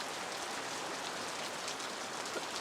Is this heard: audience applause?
no